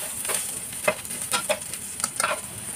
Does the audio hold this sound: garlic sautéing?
yes